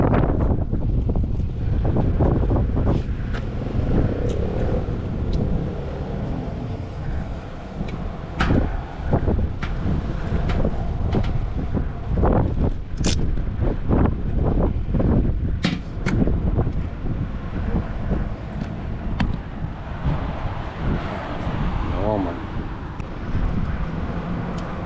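Strong gusting wind buffets the microphone throughout on a very windy day in a parking lot, with low rumbling roar and sharp bursts, steady and loud with no talk.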